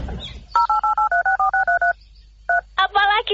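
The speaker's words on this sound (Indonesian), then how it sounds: "Tak telepon lagi ya." Telephone keypad dialing tones, a quick run of about ten evenly spaced beeps, a pause, then a few more, loud and close.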